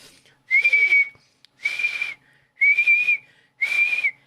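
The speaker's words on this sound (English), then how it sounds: "he would whistle the crap out of this thing." Four sharp, shrill whistle blasts come close and loud, each lasting about half a second and separated by short gaps, with no talking.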